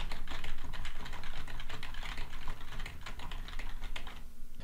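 Steady typing on a computer keyboard, recorded alone without speech as a microphone comparison between a 512 Audio Limelight and a Shure SM7B dynamic broadcast mic; dense, continuous clatter of keystrokes throughout.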